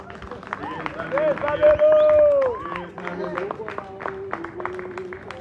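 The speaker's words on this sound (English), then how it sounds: "Can we clap hands for Say Sabelo to come?" An audience at a marimba masterclass claps hands to welcome a player. Scattered, fairly soft applause with voices and crowd murmur around it, growing into steadier clapping toward the end.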